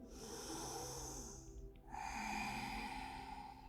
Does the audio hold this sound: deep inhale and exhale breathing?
yes